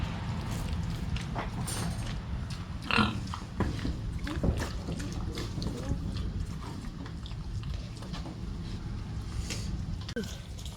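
A pig grunts and snorts intermittently nearby, low and rough, amid shuffling movement and steady outdoor background noise.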